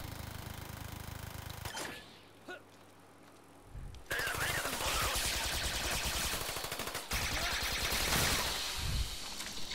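An automated turret in the video game Trials of the Blood Dragon opens fire, a loud sustained rapid rattle of shots that cuts in after a quieter stretch and continues harshly to the end, with players talking.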